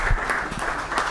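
An audience at a university summer school conference applauds, a brief burst of dense, steady clapping from many hands.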